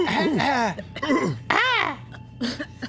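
Several voices cough and sputter in short bursts, mixed with throaty, laugh-like vocal sounds, close and fairly loud.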